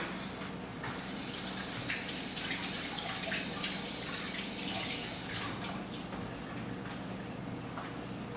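Hands are washed under a running kitchen tap after mixing salmon spread, a steady close stream of water hissing and splattering without pause.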